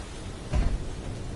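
A single rumbling thunderclap from a lightning storm in the space-building game Space Engineers, a short low boom over a steady wash of rain-like noise, fairly loud and alone.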